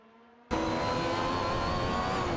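Racing cars in a video game, including a Williams FW12 and an AGS JH23, snap into a sustained steady engine whine after a brief near-silent start, holding loud and even with no talking.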